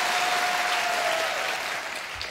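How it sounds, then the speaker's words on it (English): A television studio audience at the Late Show with David Letterman claps together, a loud dense wall of applause that fades slightly toward the end. "The rhythmic clapping may trigger a psychotic outburst."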